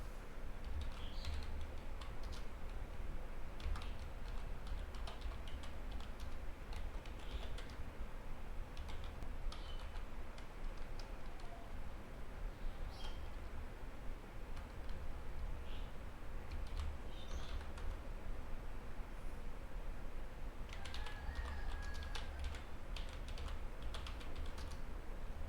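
Steady, close clicking of a computer keyboard as someone types a search phrase, a continuous patter of soft keystrokes over quiet room noise, with no voices.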